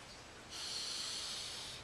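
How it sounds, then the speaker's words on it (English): A slow, deep breath drawn in through the nose during kundalini yoga, a soft close airy rush that swells and holds for a moment. "Let's go ahead and take a couple of deep breaths"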